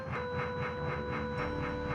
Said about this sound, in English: Small train.